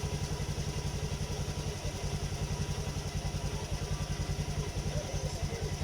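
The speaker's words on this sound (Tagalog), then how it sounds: "Yung umaandar na yung makina." Motorcycle engine idling steadily during a battery charging-voltage check, a close, loud, even rapid putter with a pulsing low beat running unbroken throughout, no voices.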